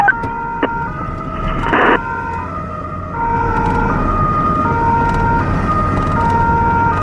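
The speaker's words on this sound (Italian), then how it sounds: "È arrivata l'ambulanza" An Italian ambulance siren wails as it arrives on a street, loud and near, its rising and falling tones cycling over traffic rumble, with a brief sharp burst early on and no talking.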